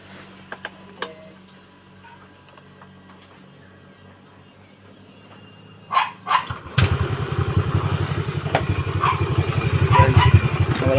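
Yamaha Aerox scooter engine starting after a few clicks and a dog's bark, then a close, steady putter that grows slightly louder, with no talking over it.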